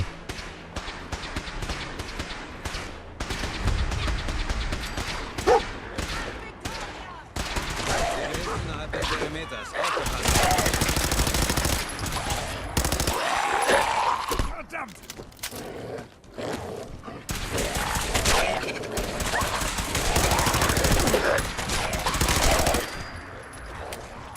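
Rapid automatic gunfire and bursts of shots from Fallout 4 fill a busy combat scene, loud and sustained in long stretches, with a player talking excitedly over the shooting.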